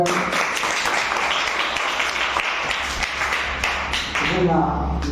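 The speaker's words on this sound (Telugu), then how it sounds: "గట్టిగా చప్పట్లు" A large church congregation at a Holy Communion service claps loudly and steadily, the dense applause continuing throughout with voices mixed in underneath.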